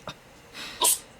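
A single sneeze, close and sharp, comes after a soft breathy intake and stands alone in a quiet indoor room.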